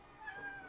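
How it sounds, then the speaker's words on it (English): A cat gives a single short, faint meow in a workshop, a brief tonal cry over quiet room noise. "This throws my cat into a murderous rage."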